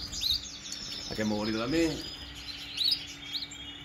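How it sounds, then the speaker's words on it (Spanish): Small caged songbirds, collected after a national bird show in Albacete, chirp and tweet in quick high bursts throughout, with someone speaking briefly in Spanish over them near the middle. "por lo pronto he cogido estos pajaritos para llevarlos"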